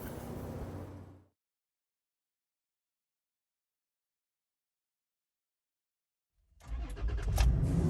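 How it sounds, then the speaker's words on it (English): A 4x4 vehicle's engine rumbles briefly, falls silent for several seconds, then fires up again and runs with a low, rising growl close by, without any talking. "Sound advice here would be to start your vehicle."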